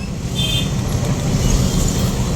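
Heavy road traffic in Lasyon, Cebu: a dense, continuous low rumble of engines close by, steady and loud with no pauses.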